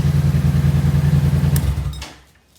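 A 2016 Yamaha MT-07 motorcycle engine idles steadily after running a few minutes, a low rhythmic thrum close by with no talk, then cuts off and fades out near the end.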